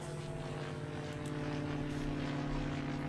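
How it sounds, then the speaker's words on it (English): A propeller airplane droning overhead in a city-building game, a steady low engine hum holding evenly and swelling slightly toward the end, with no voices. "I can hear an airplane in my ear"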